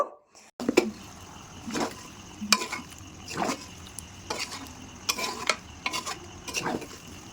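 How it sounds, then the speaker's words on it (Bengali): A spoon stirs fried potatoes through a spiced Bengali chicken curry in a pan, making a series of close, rhythmic scraping strokes over a soft, steady sizzle. "আলু দেওয়ার পরে আমি মিনিট দুয়েক মতো ভালোভাবে এইভাবে নাড়াচাড়া করে নেব।"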